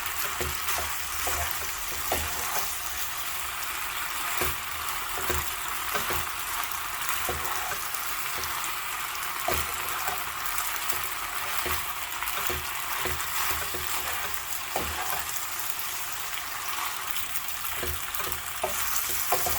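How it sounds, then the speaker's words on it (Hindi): A spoon scrapes and knocks in a pan as boiled macaroni, cooked without oil, is tossed with masala spices, regular clicks and scrapes over a steady bright hiss of gentle sizzling, with no talking. "तो इसको मसाले के साथ मिक्स कर देंगे।"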